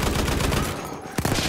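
A Lewis machine gun fires in a video game on the Amiens map, with close, loud rapid bursts of automatic fire that pause briefly and then resume.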